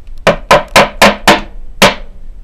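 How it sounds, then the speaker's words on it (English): Six sharp hammer blows strike wood while a beehive super is being assembled, loud and close, in a quick uneven rhythm with no talking. "That's how you hit yourself with the hammer."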